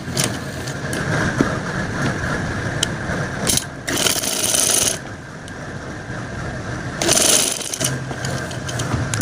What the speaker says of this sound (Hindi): सो चलिए यहाँ सिलाई लगाना स्टार्ट करते हैं।